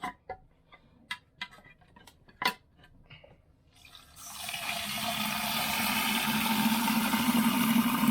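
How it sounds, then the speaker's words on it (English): A few clicks and taps, then from about four seconds a steady rush of cold running water pours continuously over freshly made butter in a bowl, inside a campervan, with no talking. "Wash the butter with cold water."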